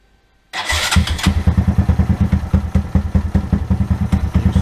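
A cold motorcycle engine on a bike fitted with an Aracer Mini tuning unit cranks and catches, then settles into a loud, close, rhythmic lumpy idle with no talking.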